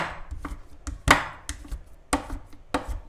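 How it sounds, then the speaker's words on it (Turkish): Bars of white chocolate are broken by hand into small pieces for melting, giving a series of sharp, close snaps and cracks spaced irregularly, roughly one every half second, with no talk over them. "Başta beyaz çikolataları ufak parçalara ayırıyorum."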